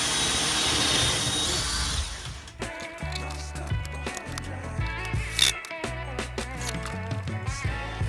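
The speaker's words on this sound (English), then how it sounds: "drill the hole through the plasterboard, and then it just leaves it nice and neat" A power drill whines and grinds as a hole saw cuts through ceiling plasterboard, with rattling and scraping as the tool works, close by.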